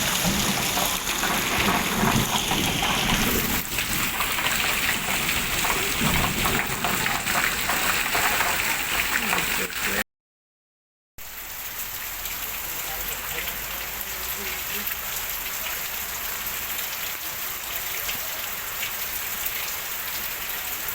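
Heavy monsoon rain pours down steadily and loudly, a dense continuous roar of drops on surfaces, broken by a brief second of silence before the downpour resumes slightly softer.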